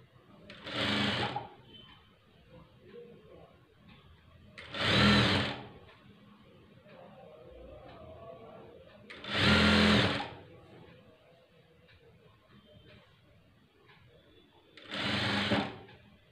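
A sewing machine stitches the neck of a blouse in four short bursts, each about a second long, separated by quiet pauses with faint handling noises.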